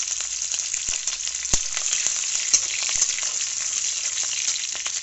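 Green chillies frying in hot oil with black cumin in a pan, a steady bright sizzle broken by a few sharp crackles and pops, with no voices.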